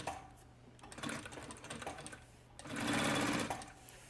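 A sewing machine stitching a wallet, close and fairly quiet, a rapid mechanical whir in short runs with a pause and a louder burst of stitching near the end.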